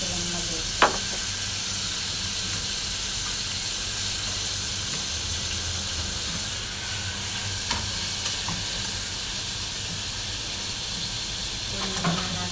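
Onions sautéing in a pan with sardines for a cabbage dish give a steady, even sizzle throughout, broken by a few faint clinks of a utensil against the pan, with no talking.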